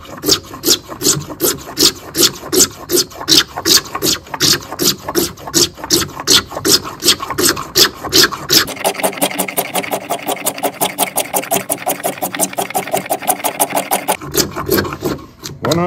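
A Mora Companion stainless steel knife scrapes rhythmically along wood to make tinder, producing fast, loud rasping strokes close by, first in distinct pulses and then in a denser rapid series.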